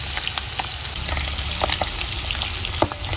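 Pangas fish pieces rubbed with turmeric and salt fry in hot oil in a pan at a roadside truck-stop cooking spot, a close, loud, continuous sizzle with scattered pops and crackles and no talking.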